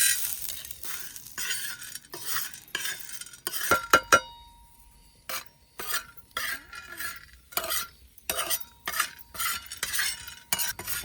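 Chana dal dry-roasting in a pan, stirred with a utensil in repeated scraping bursts with metallic clinks and a faint sizzle, close and intermittent, no talking.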